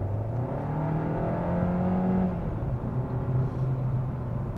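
A 2021 Kia K5 GT-Line with 180 hp accelerates on the road, its engine note climbing steadily under a constant cabin drone and road noise, then levelling off.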